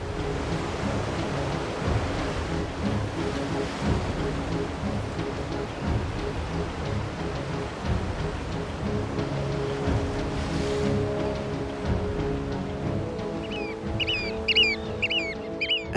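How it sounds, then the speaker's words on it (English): Autumn sea roars against the Wadden Sea coast of Schleswig-Holstein: a steady, broad rush of waves and surf that never lets up, with bird calls chirping faintly near the end. "When the sea starts to roar in autumn"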